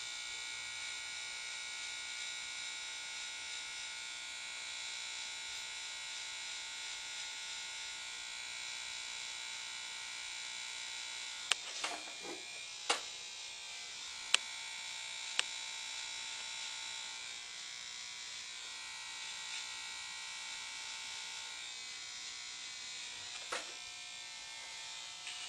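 An electric hair clipper tapering a light Caesar haircut hums in a steady, close, continuous buzz, with a few faint clicks and taps partway through and no talk.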